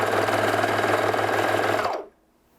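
A sewing machine runs steadily while stitching around an inseam pocket in fabric, a loud continuous motor whir that stops abruptly near the end, leaving quiet.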